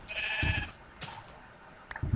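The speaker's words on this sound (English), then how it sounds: "There we go, get that sheep." A Minecraft sheep gives a couple of short, close bleats, separated by brief game clicks and thuds, with no talk over them.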